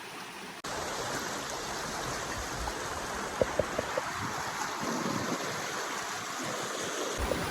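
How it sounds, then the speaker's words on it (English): A river flows steadily outdoors in Los Angeles, giving a broad, continuous rushing wash of water close by, with a few faint clicks partway through and no voices. "Just decided to have a little sit down at the river here"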